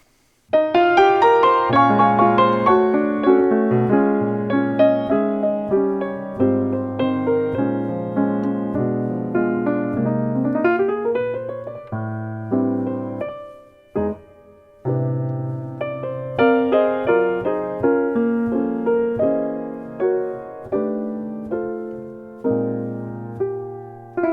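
Solo lounge jazz piano, played without sustain pedal, plays a continuous chordal passage with a melody on top, notes clipped rather than blurred together, with a few brief gaps.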